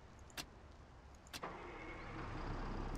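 A bus engine turns over and settles into a low idle in the video game Bus Simulator 16, preceded by two short clicks, quiet and steady.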